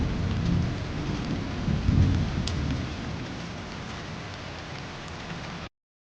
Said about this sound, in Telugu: వర్షం పడుతున్నట్లుంది బయట.